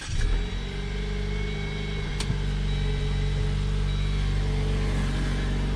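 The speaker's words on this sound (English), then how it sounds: "give this thing a cold start for you guys, because you've got to hear this" A 2019 Jeep Wrangler Rubicon two-door with a four-cylinder engine idles just after a cold start. It gives a loud, steady, low rumble with a faint whine above it, held evenly throughout.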